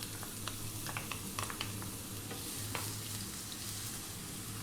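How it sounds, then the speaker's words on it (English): Onion sizzles in olive oil in a pan over high heat, a steady close crackling hiss with light ticks and pops and a low hum beneath. "We're going to drop in our onion."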